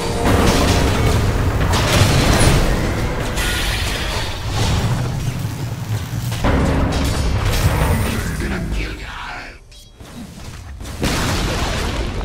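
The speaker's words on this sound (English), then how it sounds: "Radiant's top tower has fallen." A defensive tower crumbling in the Dota 2 game, heard as loud, sustained booming rumble with crashing debris and whooshes, dipping briefly before resuming at full strength.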